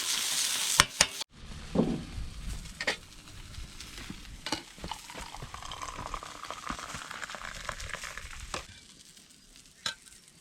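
Sausages sizzling on a red-hot car rim BBQ cooker outdoors, a steady close frying hiss with scattered crackles and clanks of utensils, running alone without talk.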